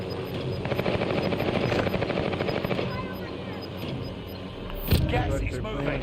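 A video game helicopter's rotor keeps up a steady chopping throb throughout, fairly loud and near, with a sharp bang near the end while a player talks over it.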